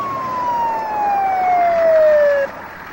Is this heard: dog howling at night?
no